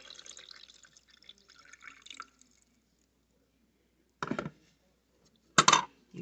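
Water poured into the reservoir of a Tastyle single-serve one-cup coffee maker for K-cups and grounds, heard as a soft trickle that stops, followed by two short, louder splashing bursts close by.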